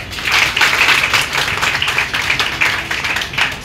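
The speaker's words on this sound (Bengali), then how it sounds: "একটা জোরে তালি" A crowd at a business planning meeting applauding loudly and steadily, a dense wash of many hands clapping at once for several seconds.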